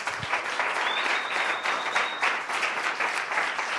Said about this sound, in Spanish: Si lo cree, denle un aplauso al Señor.